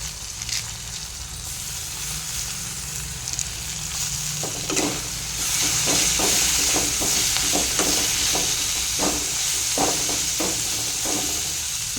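Green chillies and curry leaves frying in a pan for tomato coriander chutney, a steady loud sizzle and hiss with sharp crackles and pops bursting through in the second half, close and without speech.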